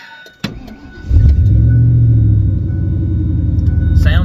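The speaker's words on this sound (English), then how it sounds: "I'm going to start the air compressor and air the tires up on this the fast way." A Slime 40050 tire inflator air compressor starts up after a click and settles into a loud, steady, low buzzing drone close by, with no talking over it.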